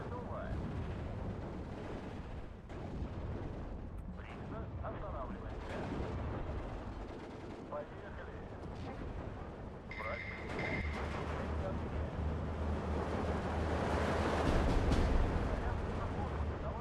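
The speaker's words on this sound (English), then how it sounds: "That's mortar fire coming down as well now." Mortar fire in Steel Division 2, distant booms and crumps of shells landing amid rumbling battlefield noise, building louder toward the end, with someone talking over it.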